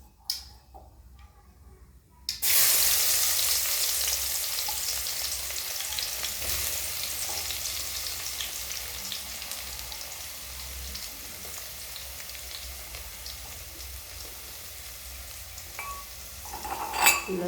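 Ground spices and garlic hit hot oil in a pan for a guar bean sabzi. A loud, sudden sizzle bursts in after a quiet start, then settles into a steady hiss with faint ticks and stirring clatter, and no voices.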